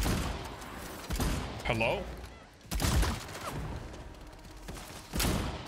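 Shotgun blasts from the Bloodhunt battle royale video game, a few sharp game-audio bursts spread across a busy mix with other effects, while a person talks over them.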